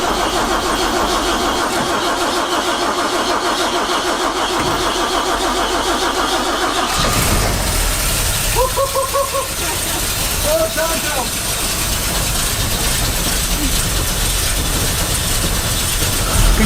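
An engine cranks and catches on full choke, first a rapid mechanical chattering whir for several seconds, then a rough steady running drone with a few brief tonal squeals, loud and close, with no voices.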